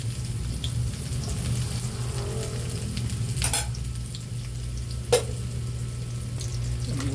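Garlic, onion and ginger sautéing in a pan for pinakbet: a steady sizzle runs throughout, with occasional stirring scrapes and a sharp clink near the end.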